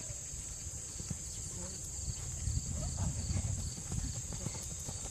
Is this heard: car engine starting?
no